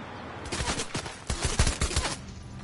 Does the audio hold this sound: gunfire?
yes